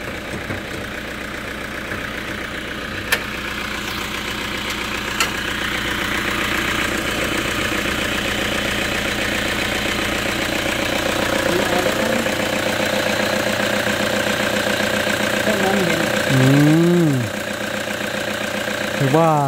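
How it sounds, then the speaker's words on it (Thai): A Toyota Vigo pickup truck's engine idles with a steady, even mechanical hum that runs unbroken, and a voice briefly speaks over it near the end. "เดี๋ยวมาดูเครื่องยนต์ครับ"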